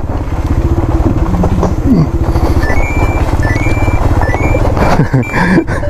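An Aveta Ranger Max motorcycle engine drones loudly and steadily throughout while riding off-road in a forest, with rough low-end rumble and a brief rising note, heard up close.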